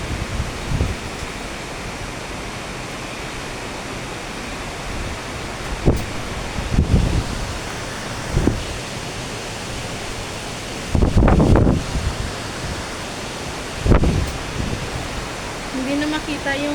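Heavy rain pours steadily in Vietnam, a dense broadband hiss with a few louder bursts and thumps, while a voice talks intermittently over it.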